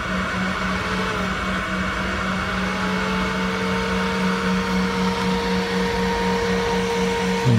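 A cooling fan on a 1000W induction heater, cooling the coils while melting aluminum, hums steadily and close with a strong low tone, a constant whir with no talk.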